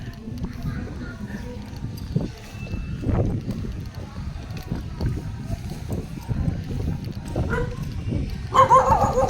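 A dog barks repeatedly at people walking through a new government housing development in the Philippines, with several sharp barks standing out over steady street noise and people talking.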